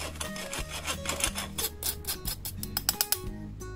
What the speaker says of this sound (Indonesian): Gula halus selalu diayak ya, diayak dadakan supaya tidak menggumpal.